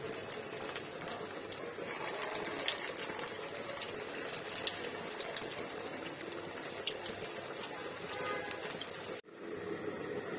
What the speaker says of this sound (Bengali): আমি আজকে সবগুলো পকোড়া একেবারে ভেজে নিচ্ছি